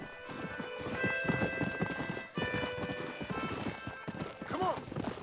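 Hooves clip-clop in a quick running rhythm from a horse galloping in Red Dead Redemption, with a horse whinnying near the end and voices talking over it.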